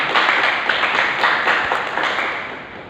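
Audience applause at a Toastmasters club meeting, a steady wash of many hands clapping that stays loud throughout and tapers slightly near the end, with no talk over it.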